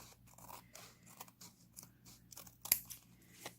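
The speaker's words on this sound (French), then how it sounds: "Alors, on tourne et on vient découper l'excédent" Scissors snip away excess glued cardstock in a papercraft sunburst technique, making a series of quiet, close, crisp cutting crunches in an irregular rhythm with no talking.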